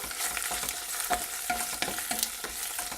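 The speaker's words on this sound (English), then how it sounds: "Next we add our prawn shells to the olive oil, give it a little stir." Prawn shells fry over high heat in olive oil on a catamaran galley, a steady sizzle broken by short scraping stirs and light utensil taps against the pan.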